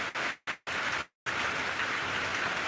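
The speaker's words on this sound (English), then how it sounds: "I can hear the rain picking up" Rain picking up outside on a farm, a steady hiss of falling drops, broken by a few abrupt silent gaps before settling into continuous close downpour.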